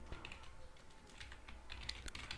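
Rapid keystrokes on a computer keyboard while entering an SQL insert query, a close, steady clatter of light clicks with a few sharper taps, no talking.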